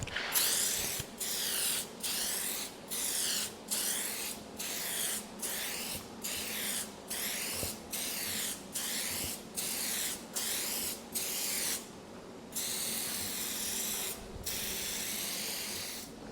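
Spray gun laying contact glue onto a laminate countertop in a wide fan, heard as a steady close hiss broken into regular short bursts by brief pauses, with no talking.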